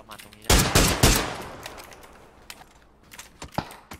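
Automatic gunfire in PUBG opens with a loud close burst of rapid shots, then trails into scattered, fainter single pops and distant shots, with faint voices in the background.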